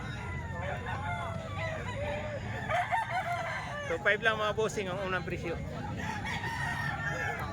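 Roosters crow among many chickens at a busy Kalumpit poultry market, several overlapping calls rising and falling against steady crowd noise while someone talks nearby.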